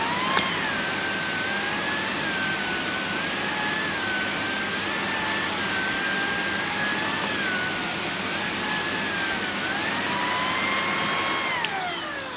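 A SEBO turbo brush vacuum nozzle runs steadily, producing a loud, constant whining motor drone with a wavering high pitch that dips slightly near the end, close and alone without talk.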